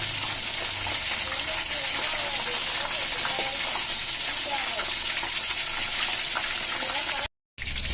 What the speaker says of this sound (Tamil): கீழே ஃப்ரை ஆயிட்டு இருக்கோம்.